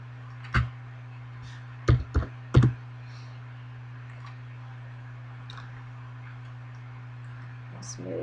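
A computer keyboard being typed on while making a photo book, heard as a few short, sharp clicks in small clusters against a steady low electrical hum.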